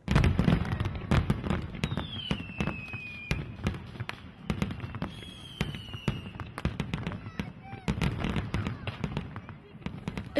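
Fireworks at year-end winter solstice celebrations in Portugal: a dense series of sharp bangs and crackling pops, some near and some farther off, with a couple of whistling rockets rising between bursts.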